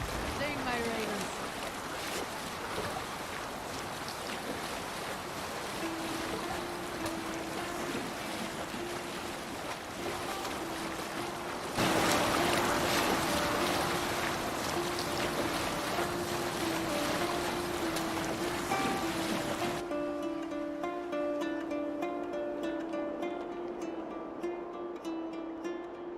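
Viking longship sailing across open water in Assassin's Creed Valhalla, a steady wash of waves and wind rushing around the hull, loud and continuous with a sustained low tone running beneath.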